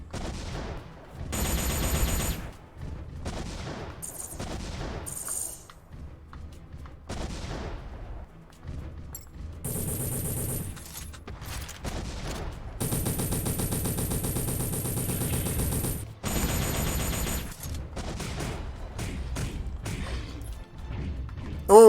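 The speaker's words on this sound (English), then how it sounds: "The thrust still sounds like a gunshot" Melee thrust attacks in the M.A.S.S Builder mech-building game land with sharp, gunshot-like bangs, repeated in irregular bursts amid loud clattering combat effects and sustained noisy stretches.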